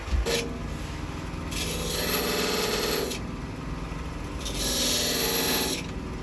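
A 1/16 inch parting tool cuts into spinning wood on a lathe while turning a vase and ring, giving a steady close scraping rasp that swells louder in two long passes over a constant motor hum.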